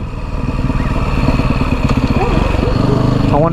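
A dirt bike engine runs steadily nearby, with a loud, rough, pulsing putter that rises slightly in pitch toward the end.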